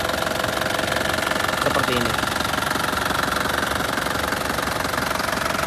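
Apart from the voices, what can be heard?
Isuzu Panther 2008 turbo diesel engine running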